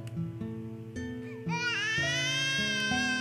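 In Roblox, a baby-crying sound effect with concert hall reverb begins softly midway and then wails on, rising above stepping background game music that plays throughout.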